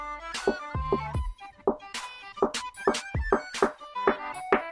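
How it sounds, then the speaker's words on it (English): Snare drum build-up from a trap-style beat made in FL Studio, with EQ automation on the snare, heard as repeated punchy hits over a synth melody, no talking. "I've also added a snare in the build-up with some EQ automation on it"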